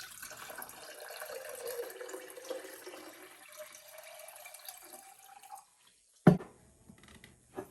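Room-temperature tap water runs steadily into a measuring container, filling toward the 600 ml mark as a soft, continuous hiss. It stops, then a single sharp knock sounds, and a faint drip follows, nearby with no voices.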